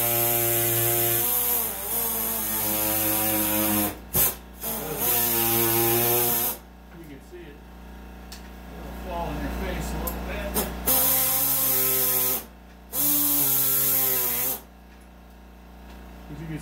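A handheld power tool cuts through drywall with a loud, high buzzing whine that runs in several long bursts, separated by short stops and quieter gaps.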